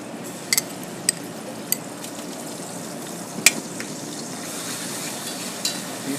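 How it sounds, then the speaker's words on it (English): Garlic sizzling in hot olive oil in a pan, a steady close crackling hiss with a few sharp clinks of a utensil against the pan. "we want to get this olive oil cooking a little bit, and we're going to add some of this delicious garlic"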